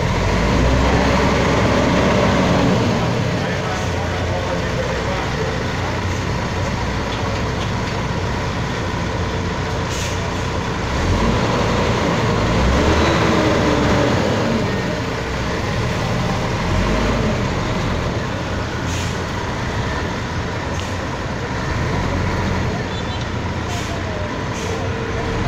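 A large bus engine idles and rumbles continuously at Novo Rio bus station in Rio de Janeiro, a busy, echoing space, with faint beeps and hissing bursts now and then.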